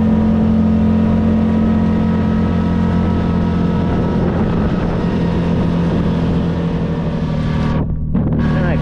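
A truck engine drones steadily from inside the cab on the drive home, a loud constant hum with a strong low tone and a brief dip near the end.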